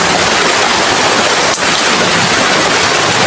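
A loud, steady wash of hiss like heavy rain pouring continuously at night over a hut, with no voices or breaks.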